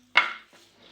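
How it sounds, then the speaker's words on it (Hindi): A single metallic clatter as the lid is set down on a pressure cooker, followed by a faint scrape. "अब कुकर को हम बंद करेंगे।"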